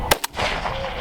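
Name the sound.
shotgun shot while dove hunting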